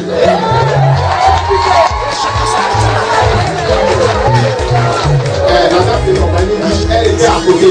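A wedding crowd cheers and shouts loudly and continuously, a dense wash of excited voices with a steady low rhythmic pulse beneath it throughout.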